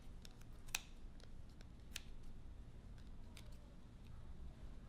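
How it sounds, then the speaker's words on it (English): Scissors snip through yarn while trimming a pom pom, a series of sharp, quiet close-up clicks at irregular intervals over a low background hum, no speech. "Just cut all the way around."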